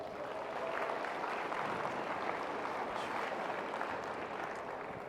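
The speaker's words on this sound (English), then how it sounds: "So give yourself a round of applause." Students and guests at a high school decision day keynote in Charlotte, North Carolina, applaud steadily for about five seconds, a dense even wash of clapping from a crowded room with no one speaking.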